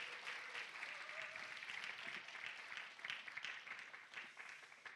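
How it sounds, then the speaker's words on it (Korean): Congregation at a church creation-science revival meeting applauding, a soft, even patter of many hands clapping that stays fairly constant and sounds faint and distant, with a few louder claps near the end. "이럴 때 박수 한번 치셔도 좋습니다."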